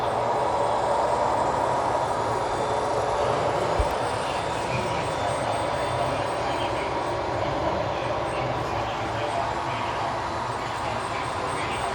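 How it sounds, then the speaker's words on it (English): A Southern Pacific model train of empty coal hoppers rolling steadily past on a museum model railroad layout in the 1990s era, a continuous close rumble and clatter of wheels that holds even throughout. "another Southern Pacific consists with nothing but empty coal hoppers running"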